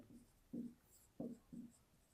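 Pen or pencil writing on paper during a math lesson: four short scratchy strokes in an uneven rhythm, close and soft in a quiet room, with no voices.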